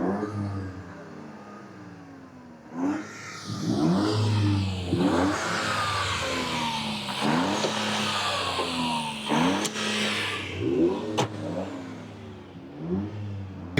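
A Toyota car engine revs hard with its automatic exhaust flap open, rising and falling through repeated sweeping accelerations near the microphone, with gear-like surges and a sharp snap or two, and no speech.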